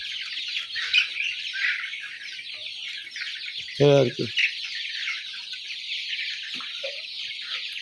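Brown cock chickens in a poultry house holding about 3200 birds produce a dense, continuous chorus of clucks and chirps, with a brief nearby voice cutting in midway.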